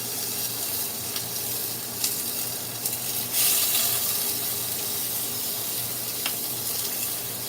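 Salmon fries in a pan for sinigang, giving a steady, loud, close sizzle with small pops and crackles throughout.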